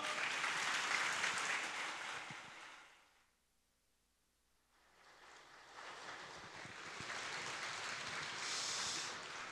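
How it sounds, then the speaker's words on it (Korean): Loud applause from a large Shincheonji church assembly fades to near silence midway, then builds back up into sustained clapping and cheering. "여러분 큰 박수 부탁드립니다"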